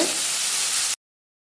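Garlic, green chillies and curry leaves sauté in a hot pan with a steady, close sizzling hiss lasting about a second before cutting off abruptly.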